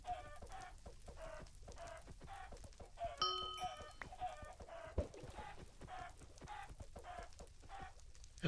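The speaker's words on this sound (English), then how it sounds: "that is a lot of angry chicken noises." Angry chickens in Minecraft Hypixel Skyblock cluck in a steady, repeated rhythm, overlapping and continuous, faint and distant, with one brief higher tone partway through.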